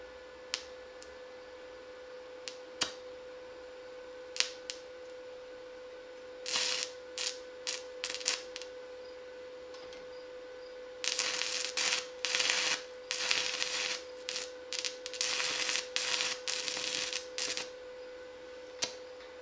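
A Yeswelder stick welder struggles to hold an arc on a 6011 rod, giving short, irregular crackling bursts that sputter out between quiet gaps over a faint steady hum.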